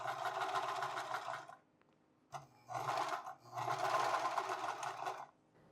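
A sewing machine stitches around the bottom edge of a fabric cap in three whirring runs, the first long, then a brief pause and a quick tap, then two more bursts close together, each one near and clear.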